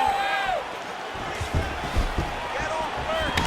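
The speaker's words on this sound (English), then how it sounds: "that punch elicited a reaction from the crowd" A video game arena crowd roars and swells in reaction to a punch during an EA Sports UFC 5 fight, sustained loud crowd noise with a few thumping impacts and rising cheers, no talking.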